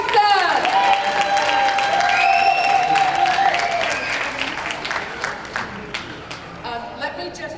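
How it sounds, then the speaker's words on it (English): Warm applause from an awards gala audience fills the room loud and steady, then thins into scattered claps as the crowd settles. "please give a warm round of applause for Dr. Joanne Jefferson."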